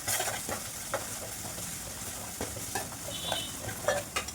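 Onions, green chillies and ginger-garlic paste frying in oil in a pan, giving a soft continuous sizzle broken by scattered stirring clicks and light utensil taps, fairly quiet and close.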